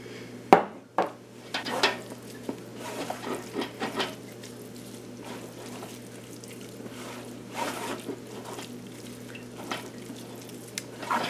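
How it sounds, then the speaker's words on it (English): Skimmed milk stirred into homemade cottage cheese in a bowl, soft wet squishing and scattered clinks of a utensil, quiet and close, with a sharp tap near the start and irregular pauses. "you can just add milk, the cream removed, and give it a stir"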